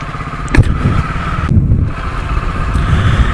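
An old, high-mileage motorcycle rolls through congested city traffic, its engine droning steadily and loudly up close with a couple of brief clattering bumps, surrounded by road noise.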